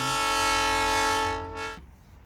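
A loud, sustained train horn blares with rich steady harmonics for nearly two seconds, then a brief hiss of steam before it cuts off.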